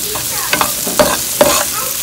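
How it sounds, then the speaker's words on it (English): Shrimp and spinach fry in a pan with onion, garlic, scallion and salt, a soft steady sizzle broken by a few quick scrapes of a utensil. "So we'll just let this fry for a little bit."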